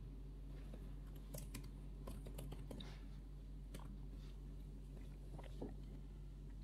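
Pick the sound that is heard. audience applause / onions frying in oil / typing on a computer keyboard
typing on a computer keyboard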